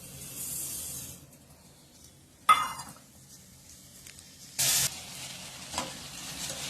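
Strawberries and half a cup of sugar being mixed in a pan on a stove, faint and close, with a couple of brief scraping stir bursts over a quiet background and no talk.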